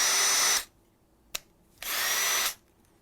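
An electric power drill spins up twice during a classroom demonstration: two loud, sustained whirring bursts of about half a second each, separated by a brief sharp click, with no talking over them.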